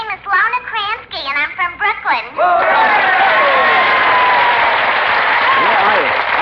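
A studio audience at a 1950 radio comedy broadcast bursts into sustained applause and cheering that washes over the room after a brief burst of speech, filling the rest of the moment at a loud, even level.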